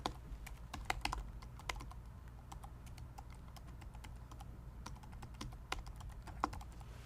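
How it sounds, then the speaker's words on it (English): Steady computer keyboard typing, quick irregular keystrokes clicking close by over a low constant hum as a web address is entered, no voices. "I'll just type in"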